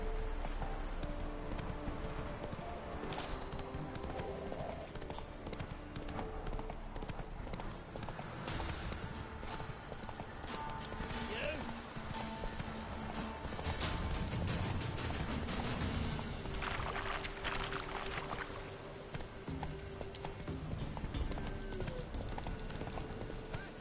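Roach, a horse in The Witcher video game, gallops with steady clip-clop hoofbeats under busy game music and ambient noise, with occasional creaks and mechanical sounds mixed in, close and continuous throughout.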